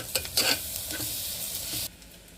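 Steady close sizzle of eggs frying in a pan, with a spatula scraping and stirring through it before the sizzling drops off abruptly.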